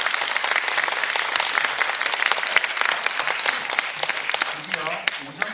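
An audience at a children's composer recital in Gimhae gives sustained applause, dense and fairly close, with faint voices mixed in toward the end.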